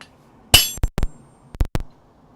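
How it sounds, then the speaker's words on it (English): Hot steel hammered on a blacksmith's anvil while shaping a set of tongs, giving a few sharp metallic clinks: a bright initial strike, then pairs of quick ringing taps, close and clear with no talk. "this little bit of work I'm doing could be done at the edge of the anvil"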